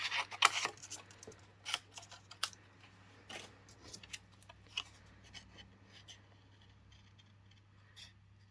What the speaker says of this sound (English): Now for a bit of fussy cutting.